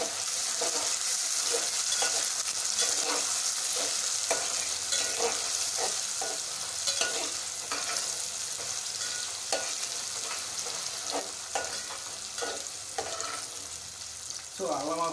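Onions fry in a pan as the base for a fish curry. A continuous bright sizzle is broken up by the scrapes and clatter of stirring, heard up close with no one talking over it.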